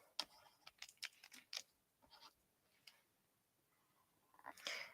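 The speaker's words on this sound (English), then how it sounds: "Touch the key on my keyboard." A single computer keyboard key tapped during a webcomic drawing livestream, heard as sharp, clicky taps scattered irregularly through the stretch, a burst near the start and another at the end, fairly quiet with no talking.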